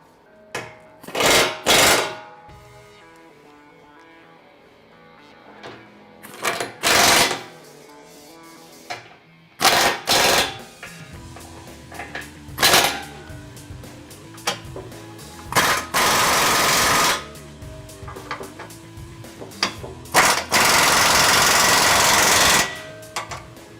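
A power tool tightens bolts on a high-clearance swing-arm rear bumper being fitted to a 2016-2022 Toyota Tacoma: a series of loud, harsh bursts of a few seconds each, separated by quieter pauses with faint clatter.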